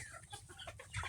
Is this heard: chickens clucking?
yes